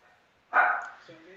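A single sharp bark from a dog indoors, loud and close, followed by a brief lower yelp tail, in an otherwise quiet room.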